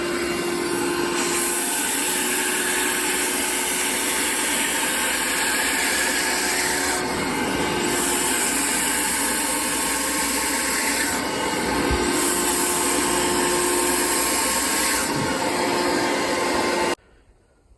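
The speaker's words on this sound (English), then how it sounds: "I've got my little drill brush, so we'll just go ahead and work that in" A drill brush scrubs the saturated back carpet of a 2006 Chevy Equinox, a loud continuous whirring drone with brief dips, cutting off abruptly near the end.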